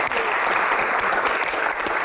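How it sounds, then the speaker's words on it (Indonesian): Audience in a TV studio applauding, a dense steady wash of clapping close and loud throughout the short burst, with no talk over it. "Yang pasti aja, tepuk tangan dong."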